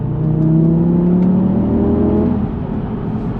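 Engine of a 2019 Audi TT RS revving hard and steadily for about three seconds, loud and close with a rising, sustained tone and no talking.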